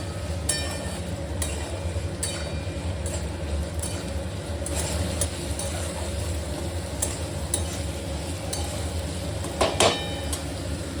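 Chopped onion frying in a pan for smoked brinjal bharit, a steady low sizzle with scattered scraping clicks of stirring, close and even throughout with no talk.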